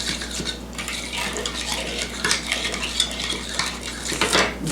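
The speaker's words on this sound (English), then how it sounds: "Then I'm going to add the Italian seasoning. Get that stirred up real good." A utensil stirs Italian seasoning into a roast mixture, with quick, close scraping and clinking against the pan or dish in a steady uneven rhythm, no talking.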